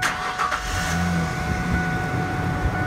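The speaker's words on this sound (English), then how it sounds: "And I'm going to start my engine." A car engine cranks briefly with the ignition key and catches, settling into a steady idle, heard close from inside the vehicle.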